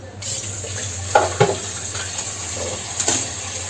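Water is drained from boiled eggs and fresh water poured over them, giving a close, steady watery rush with a few clinks and splashes.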